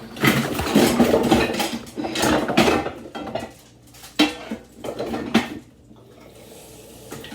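Pots, pans and dishes clatter and clank nearby as someone digs out a griddle in a home kitchen, with repeated bursts of metallic knocking and scraping, louder early on and thinning toward the end.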